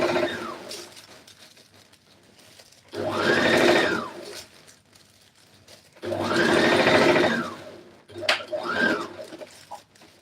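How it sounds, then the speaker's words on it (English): An electric sewing machine stitches a long jacket's sleeve into the armhole in three bursts, each a few seconds long, with quiet pauses between and faint background sounds. "So I have finished sewing the sleeve."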